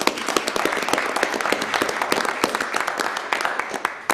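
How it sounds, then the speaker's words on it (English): A small gathering at a county commissioners' meeting claps for a few seconds, with individual hand claps standing out sharply in a moderate, uneven round of applause. "I'd like to see the board give those in attendance a round of applause"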